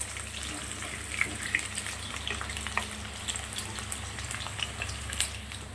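Potatoes fry in hot oil in a kadai with whole garam masala spices, giving a steady, close, continuous sizzle and crackle with small pops and no talking.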